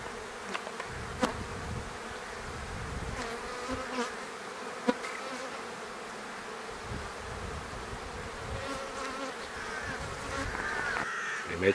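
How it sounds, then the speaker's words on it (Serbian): Honeybees buzzing busily at the sunny side of a hive container near a sunflower field, a steady dense drone of many bees with individual insects passing close now and then. "ali se vidi izuzetna aktivnost pčela"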